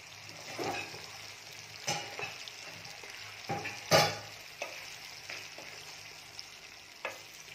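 Onion puree fries in a pan for butter paneer masala, a low steady sizzle broken by intermittent spatula scrapes and taps, one louder clatter near the middle.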